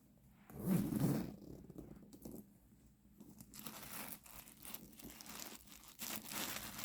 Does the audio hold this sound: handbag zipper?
yes